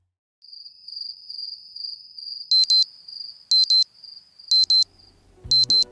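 Morning alarm clock ringing on a 6 a.m. wake-up: a steady high electronic tone broken by four loud paired bursts of beeping, close by, with low thumps at the end.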